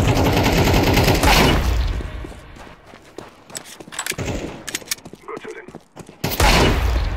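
Gunfire fills a Counter-Strike 2 deathmatch on Dust 2, with loud rapid bursts at the start and end, scattered sharp single shots and footsteps in between, and a voice talking over the action.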